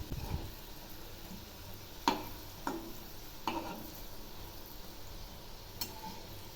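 Jackfruit pakoras frying in oil hiss steadily up close. A few sharp scraping clicks mark the pieces being turned over, with no voices.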